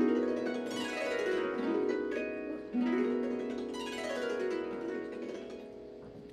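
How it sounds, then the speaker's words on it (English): Harp glissandos played close to the soundboard with a fingernail, giving dry, wooden, clicky sweeps that rise and fall in several quick waves, heard alone at moderate level. "It's a glissando played close to the soundboard, but this time with your nail."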